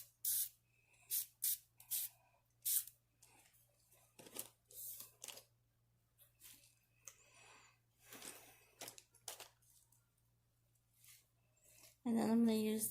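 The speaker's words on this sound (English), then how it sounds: "I'm gonna use this brush and I'm gonna spray it." Short hissing bursts from a makeup spray aimed at a brush during a Seahawks-inspired face makeup session, several quick sprays in a row, close and fairly soft, alternating with stretches of a person talking.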